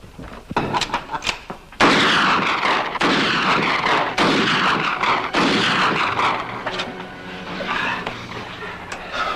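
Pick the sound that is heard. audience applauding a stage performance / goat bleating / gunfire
gunfire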